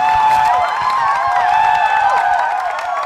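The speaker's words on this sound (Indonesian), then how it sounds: "Boleh beri tepuk tangan yang meriah sekali lagi." An audience applauds at a 2022 graduation ceremony of Perguruan Tinggi Indonesia Mandiri. The clapping is steady and loud, blended with a crowd wash and sustained musical tones that ring over it.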